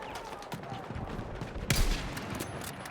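Rapid bursts of Battlefield 6 gunfire crackle in a dense, chaotic stream during a Conquest match on New Sobek City, with one louder blast partway through.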